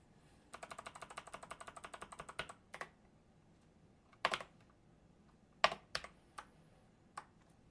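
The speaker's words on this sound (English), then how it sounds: "I wonder if I fixed my keyboard." Typing on a computer keyboard while setting up a Raspberry Pi 5: a fast run of close keystrokes, then a few scattered, separate key presses. No one speaks.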